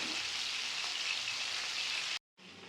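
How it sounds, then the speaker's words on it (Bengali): Pieces of chicken fry in hot oil in a pan with a steady, close, loud hiss, which cuts out abruptly near the end and then resumes. "আমি মাংসের এই সাইডটা খুব ভালো করে ভাজার জন্য রেখে দেব প্রায় 5 থেকে 7 মিনিট।"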